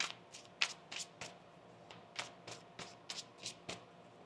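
A deck of tarot cards shuffled by hand with a steady run of soft, regular riffles and taps, about a dozen short bursts, close but quiet, with no voices.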